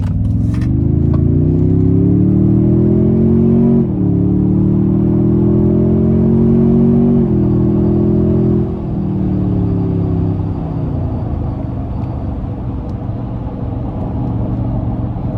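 A 2022 Toyota Tundra TRD Pro hybrid 3.5 twin-turbo pickup engine revs and climbs steadily in pitch with brief dips between gears, accelerating hard up close, no talking.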